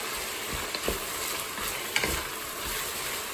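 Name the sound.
yellow and red bell peppers cooking in a Cookeo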